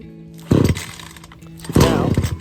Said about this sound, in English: Pull the start rope until you hear it almost start.